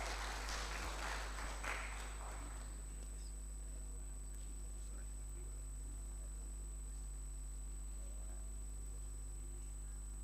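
Audience applause at the closing ceremony of an annual graduate research policy forum: a short burst of clapping in a hall that fades within about two seconds, leaving a steady electrical hum.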